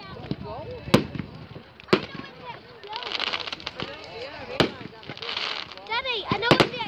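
Fireworks burst at an outdoor bonfire night at a rugby club, with several sharp distant bangs and crackles spread over the moment as people chat nearby.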